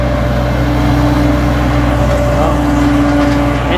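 A Massey Ferguson tractor, model 4292 or 4275, runs during corn silage harvesting with a forage harvester, giving a loud, steady engine drone that is close and continuous throughout while someone speaks over it.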